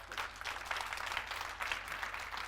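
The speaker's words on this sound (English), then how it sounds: "Yeah, you can clap for that." A church congregation at a Hope City Church Sunday service applauds steadily and fairly faintly, a dense wash of clapping lasting the whole moment with no voices over it.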